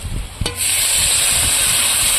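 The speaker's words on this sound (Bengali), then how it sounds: "এবার আমি জল দিয়ে দেব" Salted potatoes already fried reddish-brown for a rohu fish curry with bitter gourd erupt into a loud, continuous hissing sizzle as water hits the hot pan, after a moment of quieter frying.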